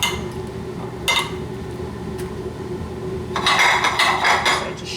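Breadcrumbs shaken across a plate while coating veal cutlets for veal parmigiana, giving a brief clatter near the one-second mark and a longer rattling, scraping burst toward the end, close by, with no talking.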